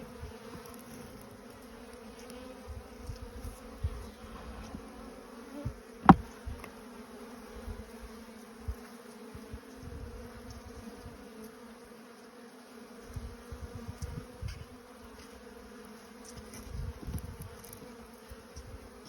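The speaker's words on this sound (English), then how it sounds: "I'm gonna have to put some more bees in there." Honey bees in a weak nucleus colony give a steady, close, low buzzing drone, with a single brief sharp click partway through and no talking.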